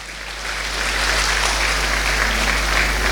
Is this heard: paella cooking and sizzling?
no